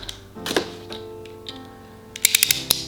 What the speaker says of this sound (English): unbox, cut all these tapes